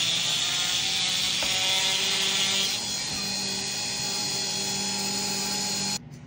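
A small rotary tool buffing an overgrown bird beak at a vet visit, a steady high-pitched whirring drone that shifts tone partway through as it touches the beak, then stops abruptly near the end.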